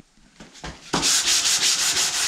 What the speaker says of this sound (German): Warum schleifst du mit der Hand?